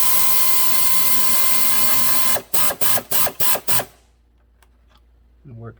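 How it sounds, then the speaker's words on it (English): An air ratchet runs bolts in on a 2013 Ram with the 3.6 engine during an oil pressure sensor repair: a steady whir, then five short bursts in a row, close and loud. "We'll run those in with the air ratchet."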